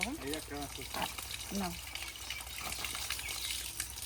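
Water runs steadily from a motor-driven pump as fresh taro leaves are washed outdoors, a continuous gushing wash under a woman's close speech.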